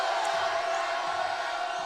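Steady crowd noise fills a high school boys playoff basketball gym during a foul shot, a constant broad wash of voices and murmur with no distinct cheers standing out.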